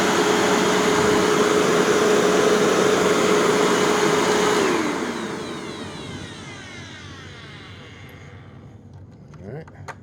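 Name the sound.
machine belt sliding and scraping over metal belt guard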